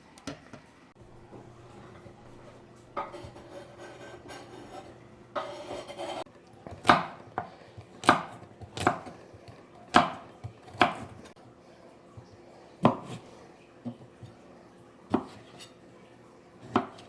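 Mushrooms being cut on a board for a bacon, beef and beer slow-cooker stew: a run of crisp, separate knife chops landing about once a second, close and fairly loud, after softer handling and clatter at the start.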